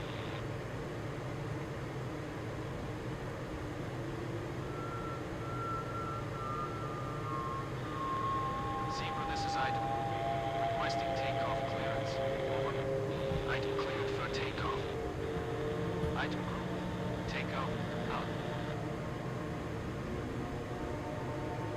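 A military aircraft takes off in the Korean War flight game Il-2: a steady, droning engine roar runs throughout at moderate level, with faint, scattered electronic chirps over it.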